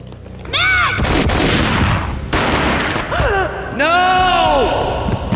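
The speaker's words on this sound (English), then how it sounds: "A gunshot boomed and she fell down in slow motion." Gunshots ring out loud and sharp in a tense Max Payne video game cutscene, with a sudden burst of fire, dramatic whooshing effects, and someone shouting between the shots.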